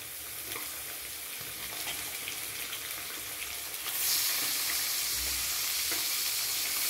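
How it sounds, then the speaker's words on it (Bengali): Chicken feet, liver and gizzard sizzle and crackle in hot oil in a kadai, a steady close frying hiss that swells louder about two-thirds of the way through as the pieces go in, with occasional stirring clinks and no speech. "এখন দেওয়া হচ্ছে ওই কলজা মেটে ঠ্যাং।"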